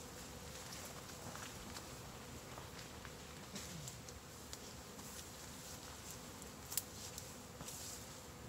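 A swarm of honeybees clustered in a tree in September gives a faint, steady buzzing that drones throughout, with a few soft rustles and taps nearby.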